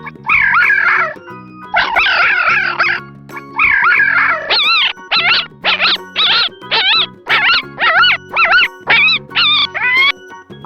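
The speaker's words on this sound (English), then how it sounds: "fox," A fox's high, wavering yelps and yips come in a rapid run of short, loud bursts, close by and with no talk over them.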